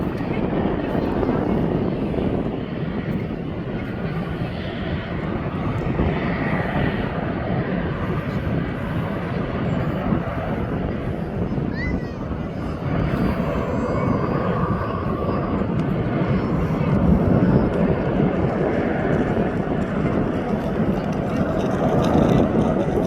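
A Jet2 airliner in jet2.com livery bound for Agadir at Birmingham Airport produces a steady, broad engine roar that holds through the whole stretch, moderately loud, with a voice talking over it at times.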